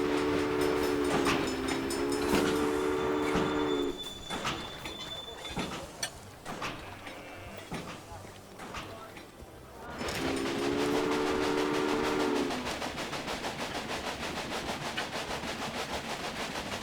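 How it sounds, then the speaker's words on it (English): A train in the Railway Empire game rumbles steadily while a two-note horn blows loudly for several seconds, fades into clattering rail noise, then sounds again near the end over a fast rhythmic beat. "that sounded like a broken train."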